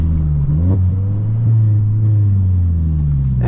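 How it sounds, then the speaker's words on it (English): A 2021 Toyota Corolla SE manual hatchback engine rev-matching on a downshift into second gear, a steady close rumble with a brief blip of rising revs partway through. "It still rev matches into second."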